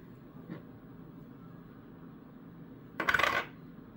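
Buffalo bullion rounds clinking together in a brief bright metallic burst near the end, after a faint tap early on, against a quiet background.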